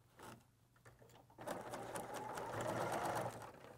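A serger runs close up as it stitches and trims down the side of a fabric pouch, a brief start followed by a continuous fast whirring run that grows louder, with no talking.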